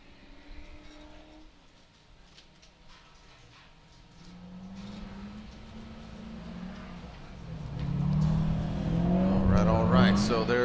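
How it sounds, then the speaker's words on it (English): A Formula Drift car works through a burnout in the Pedal Commander burnout box at the Atlanta round, its engine note climbing into a loud, high rev by the end under an announcer's running commentary. "Driver jumping into the pedal commander burnout box."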